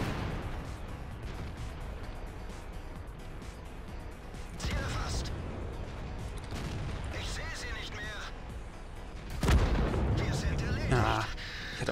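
Tank cannon fire from a KV-5 heavy tank in the online game World of Tanks, with repeated booming shots and heavy rumbling battle noise throughout, a loud blast near the end, and someone talking over the action.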